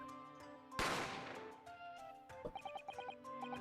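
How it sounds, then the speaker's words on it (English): A single sharp gunshot effect from The Great Ace Attorney Chronicles, a loud crack with a long ringing decay, followed by soft tonal game music notes. "The gunshot rang out"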